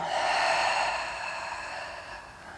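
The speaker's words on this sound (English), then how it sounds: "Nice big breath in through the nose. And nice long exhale." A long, steady breath exhaled during a Pilates session, a broad airy rush that swells early and slowly fades over a few seconds, close and alone without talk.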